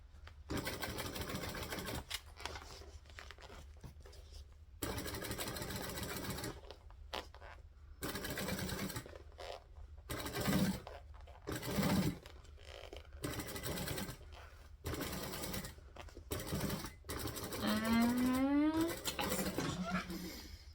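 A sewing machine stitches fabric in repeated bursts of rapid mechanical whirring separated by short pauses, with a faint rising whine near the end.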